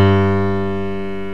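A Yamaha digital piano plays a single sustained note sample, rich in harmonics, that starts loud and decays slowly and smoothly while still ringing.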